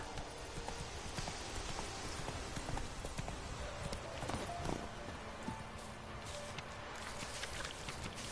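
The horse Roach gallops in The Witcher 3, hooves pounding in a fast continuous clip-clop rhythm throughout, moderately loud with faint game ambience and no speech.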